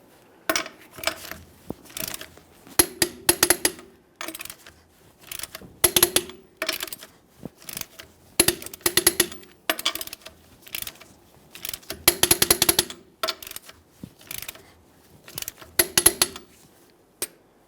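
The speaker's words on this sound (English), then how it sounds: "we'll be torquing each of our lug nuts to 115 foot-pounds in a crisscross manner" Torque wrench tightening lug nuts in a crisscross pattern on a 1994-2001 Dodge Ram 1500 wheel, with repeated bursts of close, sharp ratcheting clicks separated by short pauses, and no talking.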